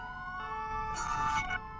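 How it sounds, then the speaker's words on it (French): A French gendarmerie vehicle sounds its siren in a short, loud, close tonal blast that swells and cuts off, over a steady engine hum. "Surtout la sirène crécelle."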